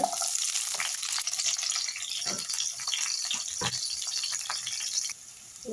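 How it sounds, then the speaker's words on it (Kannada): Finely chopped onion frying in hot oil gives off a steady, moderately quiet hiss and crackle, with a few soft clicks scattered through it and no voices. "ಈಗ ಎಣ್ಣೆ ಬಿಸಿ ಆಗಿದೆ ನೋಡಿ ಒಂದು ಚಿಕ್ಕದಾಗಿ ಕಟ್ ಮಾಡ್ಕೊಂಡಿರೋಂಥ ಈರುಳ್ಳಿ"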